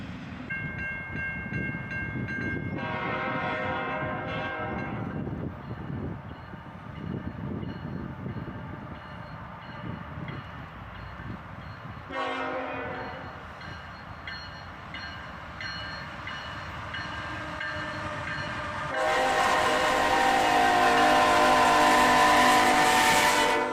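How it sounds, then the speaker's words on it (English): A CSX auto-rack freight train led by a single ET44AH locomotive rumbles past up close, wheels clattering over rail joints, horn blasts sounding partway, and the clanking roar swelling louder toward the end. "An auto-rack train with a single ET44AH on the head end."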